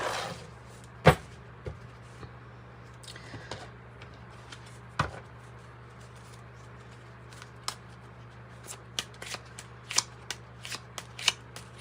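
Tarot cards are shuffled and cut close by in a quiet room, with sharp riffling bursts and scattered soft slaps and snaps of the deck over a steady low hum, and no one speaking.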